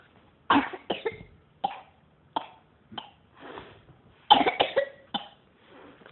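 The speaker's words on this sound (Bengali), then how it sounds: "খুব কাশি হয়েছে আবার" A child coughs in a series of short, fairly close bursts, with quiet pauses between them and a denser cluster near the end.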